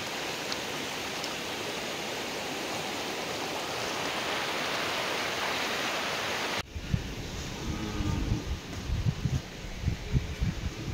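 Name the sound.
fast-flowing flood water of the Kobli river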